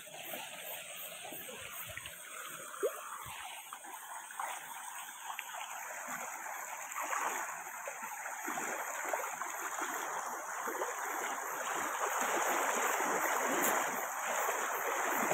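A strong, knee-deep stream rushes past close by, its water pushing hard around the legs, making a continuous hissing roar that grows a little louder toward the end, with no talk.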